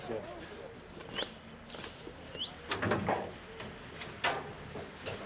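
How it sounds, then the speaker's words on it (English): Birds, including pigeon-like cooing and short chirps, call faintly on a Scottish hunting estate, scattered and distant against outdoor background noise. "Quite a few birds here."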